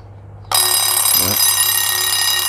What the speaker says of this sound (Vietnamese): Giờ là bắt đầu nó báo thức nè.